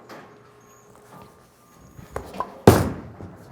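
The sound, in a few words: bowling ball thrown down the lane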